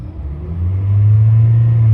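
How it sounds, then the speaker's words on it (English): A used car being checked before purchase in Nigeria has its engine revved from inside the cabin, a low hum swelling into a loud, steady drone as it accelerates. "Let's try to accelerate and listen to the sound in this car."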